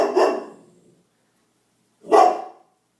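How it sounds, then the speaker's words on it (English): Indoors, a dog barks at a ceiling fan, giving two loud, close barks about two seconds apart, with silence between and no talking. "He is barking at the ceiling fan."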